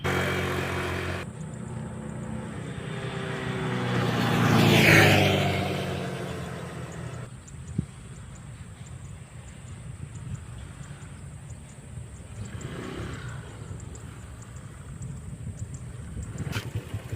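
A Honda Click scooter rides on a new BEAST tire, with steady engine and road rumble that swells into a louder pass around the middle, then settles into quieter continuous riding noise with wind.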